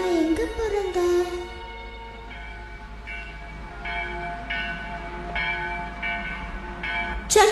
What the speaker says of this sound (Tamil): சர்ச் பெல் சத்தம் கேக்குது பத்தியா?